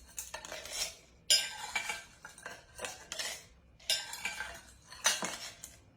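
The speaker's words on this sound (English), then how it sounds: "We're going to put the rest of this ice in here." Ice cubes clatter and clink into a glass for an Earl Grey tea cocktail, coming in several close, bright bursts of rattling impacts with short pauses between.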